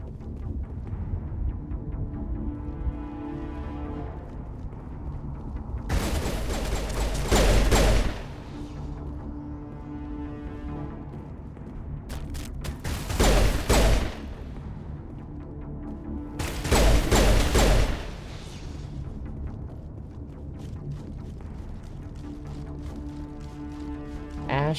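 Assault rifle fire in the Mass Effect video game, three sustained bursts of rapid shooting spaced several seconds apart, loud and close, with game ambience and some voices between them.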